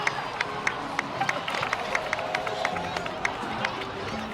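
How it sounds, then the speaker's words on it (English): Crowd applause in the Genshin Impact video game, a lively patter of clapping with rhythmic sharp claps and a murmuring crowd, moderately loud and continuous. "so please give another round of applause for them."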